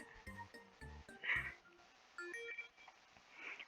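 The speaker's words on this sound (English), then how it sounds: "Suddenly, my phone jingles." A mobile phone sounds a short jingle notification, a few bright tonal notes stepping in quick succession, fairly close and clear against a quiet background with no talk.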